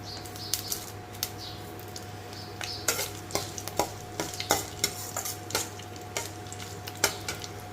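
Coriander seeds are stirred and fried in a pan, producing a low steady sizzle beneath a series of sharp, close scraping and clattering strokes that come every half second or so, with no speech.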